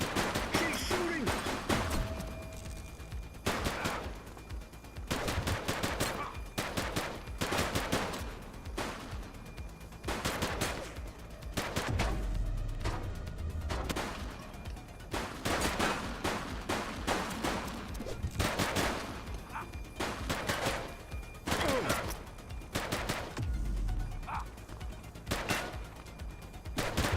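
Repeated bursts of gunfire in The Precinct police video game, a shootout of sharp shots and volleys recurring throughout at a steady loud level, with brief pauses between clusters.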